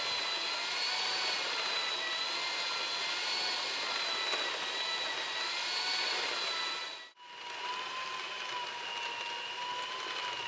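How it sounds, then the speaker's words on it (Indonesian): Electric stand mixer kneading bread dough for soft tuna-filled rolls at high speed, a continuous close whining motor hum with a steady pitch, briefly cut off once before resuming. "Aduk terus adonan dengan kecepatan tinggi hingga adonannya menjadi kalis"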